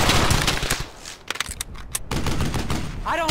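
Gunfire in the World War II video game Brothers in Arms: Hell's Highway, with rapid bursts of shots and a machine-gun rattle, near and loud, and a voice briefly at the end.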